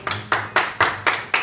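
Six sharp, evenly spaced hand claps ring out loud and close with no talking, marking applause at a late-night fish cake shop in Yeosu.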